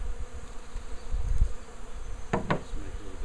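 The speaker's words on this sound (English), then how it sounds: "here's the rest of the bees that were in the basket, and they're now going to go" Honeybees from a caught swarm are shaken out of a basket into a hive, giving a continuous low buzzing hum with a couple of sharp knocks against wood near the end.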